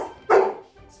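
One short, sharp dog bark sounds close and clear, with a faint yip-like tail afterward and quiet surroundings.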